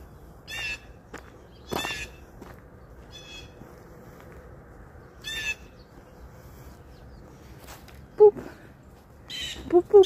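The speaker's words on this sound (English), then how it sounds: "Shut up, birds." Crows caw repeatedly at a park, several harsh calls spaced across the stretch, some near and some farther, with a few low thumps and faint background noise.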